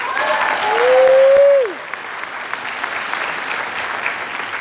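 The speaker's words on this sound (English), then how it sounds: "Give some applause to John Della Valle." Audience applause at a high school jazz band concert in a school arts center auditorium, a steady broadband clapping wash throughout with a brief sustained tone gliding through it near the start.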